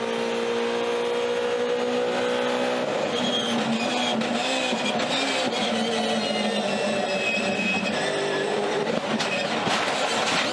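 Onboard a Supercars race car, the engine howls at high revs with tire and road noise, then harsh scraping and crunching impacts as it runs over the curbs and slams into the wall, loud and close.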